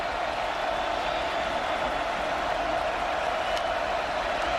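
Steady roar of a stadium crowd at a Baylor vs SMU college football game, loud and continuous without pause, with a brief sharp accent near the end.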